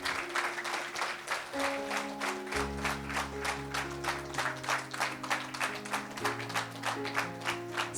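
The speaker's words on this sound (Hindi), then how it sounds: "जोरदार तालियां।" Audience at a spiritual science gathering applauds loudly and steadily for the whole stretch, with sustained musical tones underneath.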